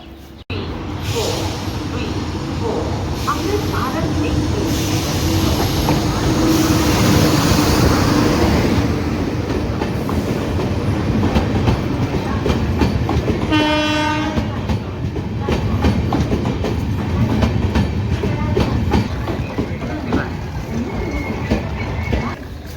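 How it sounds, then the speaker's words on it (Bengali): The Amrit Bharat Express runs loudly on the rails, rumbling and clattering up close, with a brief horn blast around the middle as it nears New Farakka Junction. "ট্রেন চলে এসছে নিউ ফরাক্কা জংশনে"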